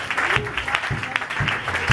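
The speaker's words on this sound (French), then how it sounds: "Nous acclamons plus fort" A church congregation applauds and cheers at a Pentecost celebration service, a dense, lively burst of clapping and voices filling the room for a couple of seconds.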